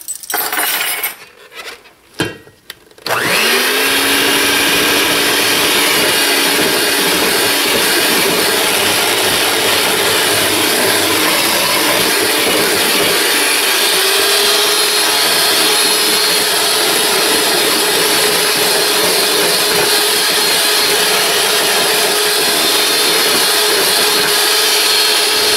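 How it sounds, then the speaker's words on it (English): A kitchen blender whirs steadily as milk is blended into batter, a loud continuous drone that starts after a few seconds of clatter and holds unchanged to the end. "Then blend in the milk, then the baking powder."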